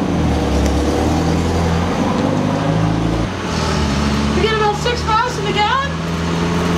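A Winnebago RV van is driving on a road in Florida, its steady low engine drone and road rumble loud and close throughout. A person talks over it.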